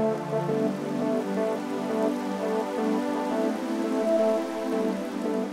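Heavy rain pours down steadily, a dense, constant hiss and patter on surfaces with no pauses.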